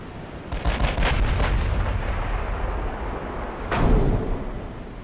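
Heavy battleship guns fire in a 1940 Russia-versus-Japan naval duel in Ultimate Admiral: Dreadnoughts, a rapid cluster of booming shots followed a few seconds later by another loud blast, with no talking.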